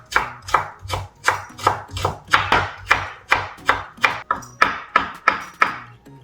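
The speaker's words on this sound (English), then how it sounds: "Then slice the carrots. After slice and julienne the carrots." Knife chopping carrots on a cutting board while slicing and julienning them for Korean deep-fried seaweed rolls, fast steady rhythm of about fifteen sharp close taps, no talking.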